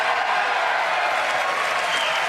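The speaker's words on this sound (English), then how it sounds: "these are edited for time because the applause was so long" Sustained loud applause from a large audience in a formal chamber during a State of the Union address, steady dense clapping throughout with no voices standing out.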